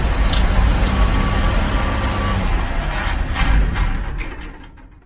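A 1969 Chevy van engine running after 35 years off the road: a loud, steady rumbling idle up close, with a few brief higher-pitched noises before the sound fades toward the end.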